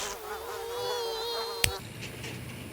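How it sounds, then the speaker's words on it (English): Mosquitoes whining and buzzing beside the Mississippi River, a thin continuous drone with a brief sharp tap partway through, fairly quiet and steady. "The mosquitoes around here, they get pretty bad."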